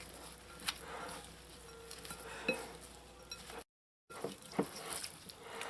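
Dried mango achar is stirred with spices in mustard oil, the spoon giving soft, faint clinks and scrapes against a bowl in an irregular rhythm, with a brief silent gap partway through.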